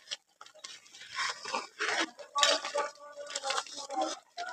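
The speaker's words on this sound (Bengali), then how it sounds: "এবারে এই আচারটা ভালোভাবে ফুটিয়ে নেওয়ার সময় মাঝে মধ্যে একটু নেড়ে চেড়ে দিতে হবে, যাতে করে দেখতে হবে নিচে লেগে না যায়।" Utensil scraping and clinking against a wok as lemon pickle is stirred while it simmers, in irregular bursts of metallic clatter that sound close by.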